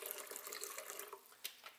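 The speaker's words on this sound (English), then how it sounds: "let's start by pouring in 2 cups or around half a liter of water" Plain water poured into a blender jar for a green smoothie, a steady soft splashing stream that stays faint and close with no voices over it.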